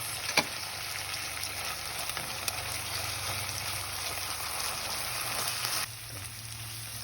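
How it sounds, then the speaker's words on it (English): Onions, curry leaves and garlic sauté in a pan for an egg roast, a soft continuous sizzle with a faint background hum that drops slightly near the end, no talking. "we're going to saute these all together for a couple of minutes"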